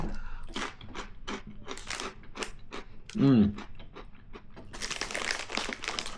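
Bacon ranch potato skin chips crunched up close, crisp bites and chewing mixed with a person talking, one brief tonal squeak partway through.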